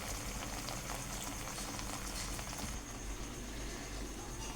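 Potato bhaji fritters deep frying in hot oil over a medium flame, giving a dense, steady bubbling and crackling roar that stays loud and close throughout without any voices.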